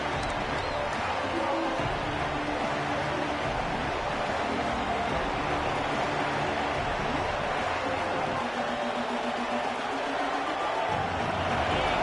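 Steady roar of a large stadium crowd at a college football game in a video game, a dense wall of cheering and murmur that continues without a break.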